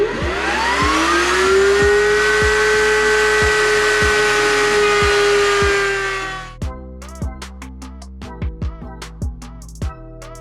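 A router trims a wooden edge flush with a high, steady whine for about six seconds, then winds down into a series of sharp clicks and taps.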